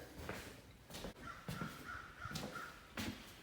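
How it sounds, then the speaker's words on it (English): Crows caw repeatedly outdoors near a mobile home under repair, with several harsh calls spread across the moment against a noisy background, fairly distant and moderately loud. "And the crows are laughing at me."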